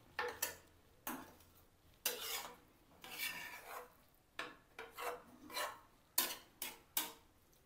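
Spinach and onion curry is stirred in a pan with a spoon, giving a series of close scraping and rasping strokes in irregular bursts, with light clinks of metal against the pan.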